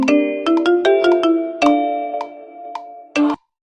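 A custom-made phone ringtone plays a bright, chiming melody of struck bell-like notes in an irregular rhythm, loud and close, ending with a final burst of notes before cutting to silence.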